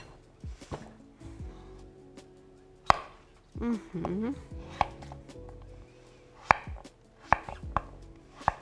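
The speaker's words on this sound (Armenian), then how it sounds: "փորձեմ շատ արագ կտրատել եւ տեղափոխել արդեն ջրի մեջ" A knife chops food quickly on a cutting board in a home kitchen, sharp irregular knocks in short bursts close by, with scraping and light clatter between strikes.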